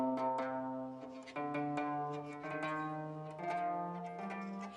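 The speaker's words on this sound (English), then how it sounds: "There are 81 strings on this wooden soundboard" Plucked strings of an 81-string qanun zither with a wooden soundboard ring out in a melodic run, each note attacking brightly and sustaining with shimmering overtones, played solo and fairly close.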